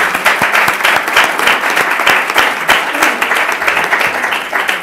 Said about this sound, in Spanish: Quiero pedir un aplauso para todos los ponentes.